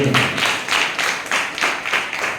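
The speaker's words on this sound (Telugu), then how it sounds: "చప్పట్లు కొట్టండి." An audience at a Telugu Christian sermon claps in unison: about six loud, evenly spaced, rhythmic clap bursts, close and with no talking.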